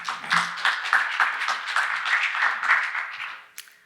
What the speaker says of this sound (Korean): 우리 나오실 때 박수로 좀 환영하시고 또 격려해 주시면 좋겠습니다.